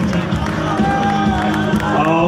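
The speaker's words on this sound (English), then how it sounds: "you need to clap and cheer very loudly when Billy starts to skip" Children in a show audience clap and cheer loudly for a rope-skipping act: a continuous, close crowd roar of high young voices shouting and whooping, with scattered claps mixed into the dense noise throughout.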